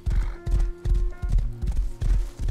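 Horse hooves from the survival video game Rust, a loud, close run of rhythmic clip-clop beats in quick repeating groups, with a brief whinny-like tone near the start.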